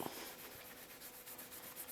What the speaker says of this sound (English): this is sort of a terry cloth paper towel, and I can just rub it